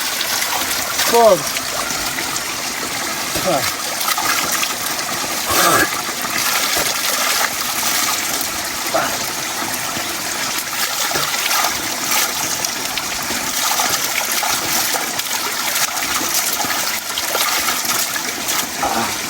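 Water flows and trickles steadily close by at a home in Nepal, a continuous wash of splashing under a voice talking over it.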